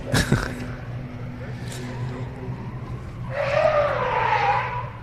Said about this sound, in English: nice skid. Cool handbrake. E-turn.